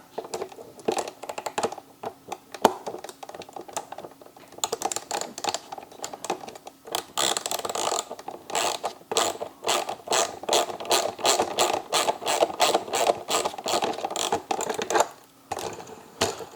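A small wheel is tightened on an E-flite Draco 2.0m RC plane during assembly. Rapid clicky ratcheting and light mechanical ticks come in quick bursts, close and fairly quiet, with no talk.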